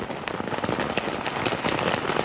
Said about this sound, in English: it's the rain beating on the camera during the typically tropical downpour